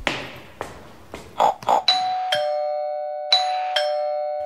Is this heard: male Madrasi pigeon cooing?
no